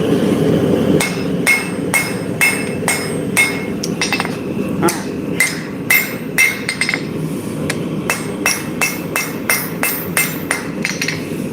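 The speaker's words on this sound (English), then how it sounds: "I will move you guys so you can see the power hammer" A power hammer forging a steel blade pounds out a long run of loud, closely spaced strikes with a steady mechanical rhythm, ringing metallic clinks over a continuous low workshop rumble.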